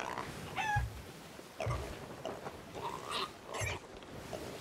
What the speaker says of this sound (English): Your pig is hungry. I have fed the pig.